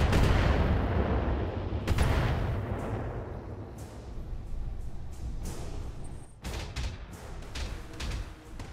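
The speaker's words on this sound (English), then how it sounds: "there's a turret up there that's shooting at him" Heavy gunfire from a turret in the BattleTech mech combat video game, a dense barrage of booming, thudding shots that rolls on continuously, with sharper blasts breaking through near two seconds and again toward the end.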